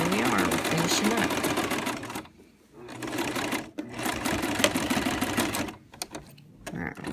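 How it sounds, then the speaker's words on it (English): Sewing machine stitching along the edge of an apron in a home-school sewing class, loud rapid mechanical chatter in several bursts with short pauses between them, and a voice speaking over parts of it. "Sew right along the edge there."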